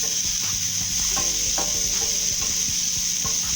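Peppers tossed and frying in hot oil in a pan for Nigerian fried rice, with a continuous loud sizzle and intermittent stirring scrapes and knocks, close up and without speech.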